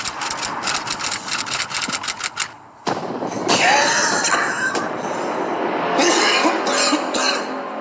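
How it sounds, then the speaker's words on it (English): Several sharp coughs in the first couple of seconds, then a steady engine rumble with a few more rough bursts on top. "Shoot, I'm coughing."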